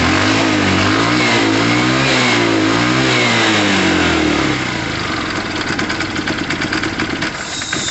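A Tamoretti retro motorcycle revs hard, its engine note climbing and falling in repeated loud surges before settling into a rougher, lower running sound, close and with no talk.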